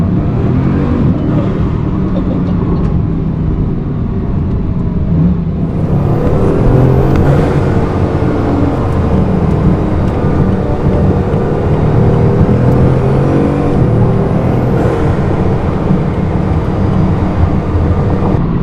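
A Bugatti Chiron cruises at part throttle, heard as a continuous loud engine and road roar with a rising whistle-like whine that sweeps up twice.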